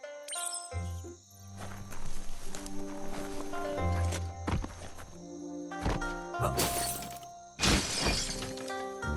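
A box smashed to pieces in the action game Biomutant, heard as a run of loud shattering cracks and clattering debris, with two sharp splintering hits near the end over a humming backdrop.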